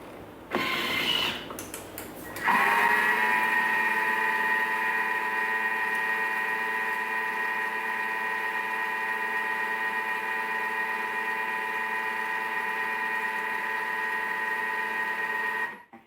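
A Thermomix whirls chocolate chip cookie dough with a steady, loud motor drone and mechanical whir, starting after a couple of seconds of clatter and running continuously until it cuts off at the end.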